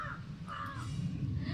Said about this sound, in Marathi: तुम्हाला व्हिडिओमध्ये काव काव केलेला ऐकू येत असेल